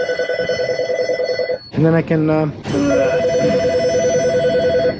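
Telephone ringing with a warbling electronic trill in an auto repair shop, loud and repeating, cut off briefly by someone talking before the ringing resumes.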